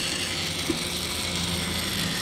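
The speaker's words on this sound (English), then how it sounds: "This one's just got a really fast motor on her." Fast continuous whirring and ratcheting of the small motor mechanism inside a Thumbelina doll, a dense mechanical buzz held at an even level throughout, close up with no talking.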